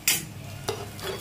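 Makhana fries in a pan over low heat, giving short clinking scrapes of stirring with a faint sizzle beneath, close and quiet.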